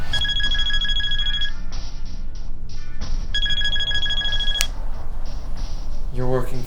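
A cell phone rings in an action thriller scene, two bursts of bright electronic trilling tones over a dense background of noise and talk.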